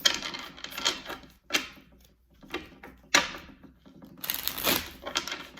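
Bursts of papery tarot card shuffling, several separate riffles and slides at irregular intervals, close and fairly quiet, with short pauses between them.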